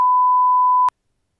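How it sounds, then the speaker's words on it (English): A single loud, pure censor bleep holds a steady tone for just under a second, then cuts off abruptly to silence. "I'll bleep that bit out of this video because I don't want to give any spoilers away."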